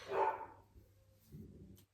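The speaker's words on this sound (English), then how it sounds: "Sorry if you hear barking. I am at my mom's house and there's a dog." A single muffled dog bark up front, followed by a softer second yelp, faint and somewhat distant in a quiet room.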